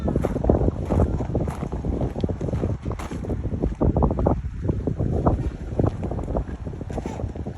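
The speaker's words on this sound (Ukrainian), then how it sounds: "Ось тут вітер." Strong wind gusts buffet the microphone in loud, uneven bursts, roaring close and continuously.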